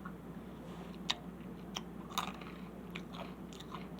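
Close, quiet biting and chewing of a crunchy seasoned snack resembling Takis, with several sharp crunches spaced irregularly over a soft background and no talking.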